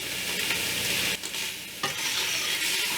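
Ground beef cooking in a pan for chili, a constant bright sizzle with stirring scrapes, briefly dipping quieter midway before resuming at full hiss.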